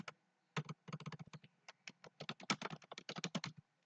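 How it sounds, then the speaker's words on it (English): Rapid, crisp key presses on a computer keyboard in a cyber cafe, close and clear in quick irregular runs with brief pauses between bursts, no talk. "I will type some information."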